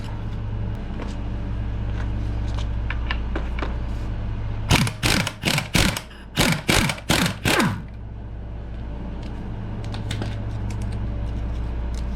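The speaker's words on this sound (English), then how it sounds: "we'll go ahead and pop that top nut off." A ratchet removes the top nut from a Honda S2000 strut during a spring install, giving a quick run of sharp, close clicks in the middle of a low steady hum, with quieter background noise before and after.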